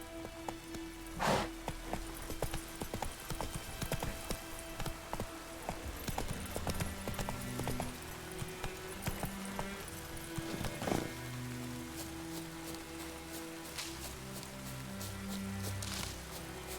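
Roach the horse trots along in The Witcher 3, hooves clip-clopping in a steady rhythm over a rainy outdoor soundscape, with sharp louder impacts now and then, close and continuous throughout.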